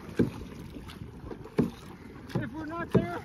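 Paddle strokes splashing in water at a steady pace from a small boat near the Phi Phi Islands, roughly every second and a half, with wind noise and a brief voice in the background.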